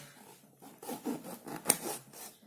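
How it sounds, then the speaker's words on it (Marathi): Brief, close rasping and rubbing strokes as a knife cuts a lemon in half, a quick series of scraping pulses ending in a sharper snap, with no speech. "अर्धा लिंबू आपल्याला कापून घ्यायचा आहे"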